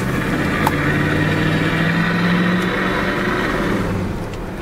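A 1977 Pontiac Bonneville Brougham coupe with an Olds 403 V8 and a holed muffler accelerates nearby, a loud, rough engine roar that climbs steadily in pitch before easing off near the end.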